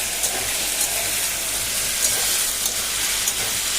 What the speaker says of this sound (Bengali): এখানে আলুগুলো ভেজে নেব, হালকা লাল লাল করে ভেজে নেব আলুগুলো।